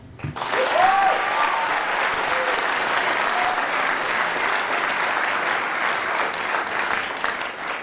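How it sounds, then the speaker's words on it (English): An audience gives a sustained, dense round of applause for Secretary Kennedy at a food-policy announcement, loud and steady from start to finish, with no talk over it. "Can we get a bipartisan round of applause for Secretary Kennedy"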